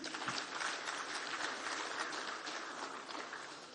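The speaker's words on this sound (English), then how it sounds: "A round of applause once again." Dense, steady clapping from an audience in a hall at a political gathering, sustained evenly throughout without pause, heard from within the crowd.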